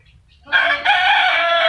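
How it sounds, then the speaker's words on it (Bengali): A rooster crows once, loud and close, its harsh drawn-out call rising abruptly after a quiet moment and holding to the end. "ওই যা মুরগি"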